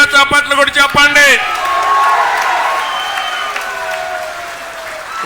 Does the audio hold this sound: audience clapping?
yes